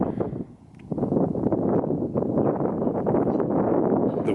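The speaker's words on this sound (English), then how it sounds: "The wind is to my back, and it's got a cold feel to it." Cold wind blows outdoors in Colorado under cloudy skies, a steady low rumbling buffet on the microphone that dips briefly and then holds strong, with no voices.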